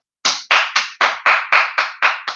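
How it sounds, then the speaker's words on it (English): Nine sharp hand claps ring out in a steady, evenly spaced rhythm, loud and close, with no voices. "Clap it up, WACK."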